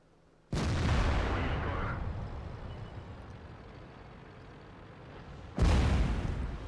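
Two heavy artillery blasts from a World of Tanks self-propelled gun such as the Hummel, each a loud boom rolling into a long fading rumble, the second coming about five seconds after the first.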